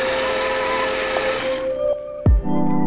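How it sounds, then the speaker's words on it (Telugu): A kitchen blender grinds overnight-soaked, peeled almonds into a purée, its loud steady motor whine running alone and then cutting out abruptly, followed by a brief thud and a lower hum. "సో ఇప్పుడు దీన్ని గ్రైండ్ చేసేసుకుందాం."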